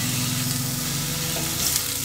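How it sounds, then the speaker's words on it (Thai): Pork sizzles in a pan without added oil as its fat renders out and the meat starts to brown for kimchi soup, a dense, even frying hiss heard close up with no talking. "โอเคอันนี้น้ำมันในหมูของเราก็เริ่มละลายออกมาแล้วนะคะ แล้วหมูก็เริ่มเหลืองส่งกลิ่นหอมแล้ว"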